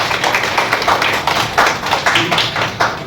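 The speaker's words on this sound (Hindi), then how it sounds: "इस हाथ से ताली बजा के दिखाइए एक बार" Audience clapping along at a direct selling team training session, a dense, steady patter of many hands at close range that fills the whole stretch without letup.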